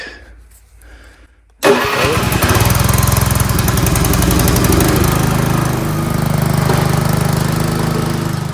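After a few seconds of quiet, a Honda HSS622 snowblower engine starts abruptly with a pull and then runs at a loud, steady idle nearby, its small-engine chug continuing unbroken to the end.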